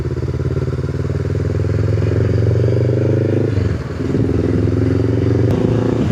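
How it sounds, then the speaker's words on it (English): A motorcycle engine rumbles steadily up close, dipping briefly then revving on, with faint crunching clatter underneath as it rides over gravel. "Special motorcycle treatment. Take that through the gravel."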